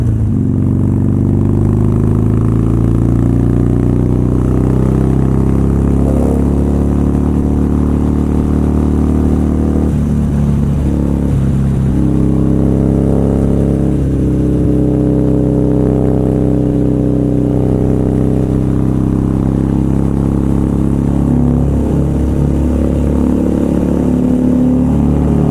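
A Harley-Davidson Iron 883 with a Vance & Hines exhaust and an offbeat exhaust note is ridden through city streets, its loud, close, throbbing engine rumbling continuously, with pitch shifts as it accelerates and slows, and no talking.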